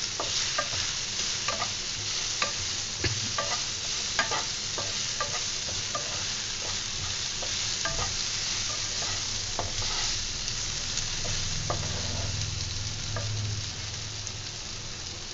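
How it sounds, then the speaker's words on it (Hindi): Finely chopped potatoes fry in a pan while being mixed, a steady sizzle punctuated by frequent rhythmic scrapes and taps of the spoon that slow toward the end, close and moderately loud, no talking. "अब हम इसमें डालेंगे बारीक कटे हुए आलू, और इन्हें भी अच्छे से हम मिक्स कर लेंगे।"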